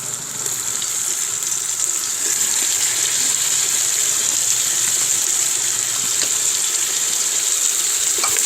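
A karahi of kali mirch curry sizzles in a pan just after poppy seeds go in, giving a steady, close, loud hiss and crackle that holds evenly throughout with no talking.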